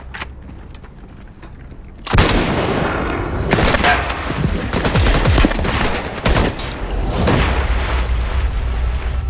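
Kalashnikov's first automatic rifle prototype is test fired. After a quiet start, loud bursts of rapid automatic gunfire erupt close by and continue for several seconds, with brief pauses between volleys.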